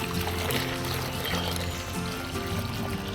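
Water is poured into a planting hole before adding planting gel for a Manacá da Serra, a continuous splashing pour heard close up with no talk.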